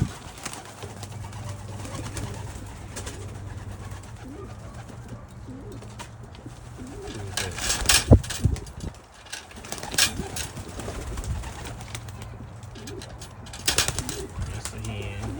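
Pigeons coo in a loft holding young birds, a low continuous murmur of cooing from several birds close by, broken by occasional wing flaps and sharp knocks.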